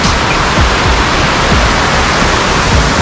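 Maarikkuthu waterfall on the Wagamon route roars in a steady, dense rush of falling water, loud and close, with no voices over it.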